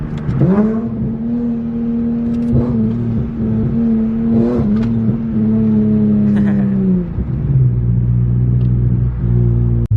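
A rear-mount turbo Nissan Z car engine hums, then rises as it revs during a downshift and holds a steady drone, settling to a lower pitch near the end; loud and close.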